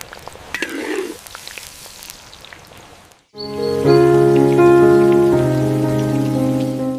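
Freshwater prawns fry in mustard oil in a miniature pan, making a crackly sizzle with sharp pops for about three seconds. After that the frying gives way to steady tonal music.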